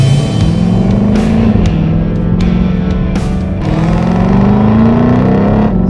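A 2020 Shelby Mustang GT500 powers up from inside the cabin, its loud engine droning and climbing steadily in pitch through a gear, with a brief dip mid-pull before rising again, no voices.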